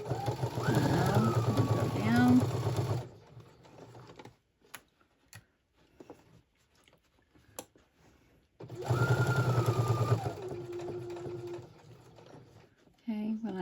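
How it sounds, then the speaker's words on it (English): A sewing machine stitches binding on a Christmas mug rug in two dense bursts, the first about three seconds long and the second lasting a couple of seconds, with quiet handling and small clicks in between. "I'm just going to sew it up to the corner"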